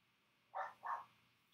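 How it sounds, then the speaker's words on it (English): A pet whippet indoors gives two short, sharp barks in quick succession, fairly faint against a quiet room. "She's now barking because the neighbor's dogs are barking."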